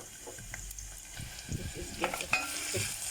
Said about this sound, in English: I'm going to add in my mustard seeds. Let that fry up. And then our onion next.